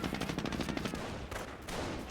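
Rapid gunfire crackles from infantry squads firing from inside a church in the World War II strategy game Company of Heroes, with bursts of machine-gun and rifle shots overlapping continuously.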